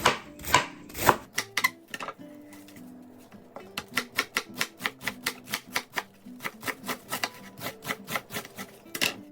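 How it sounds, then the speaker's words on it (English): Steady rhythmic knife chopping cabbage on a board, rapid sharp cuts in quick bursts, close and clear with no talking. "We just need to finish chopping this up"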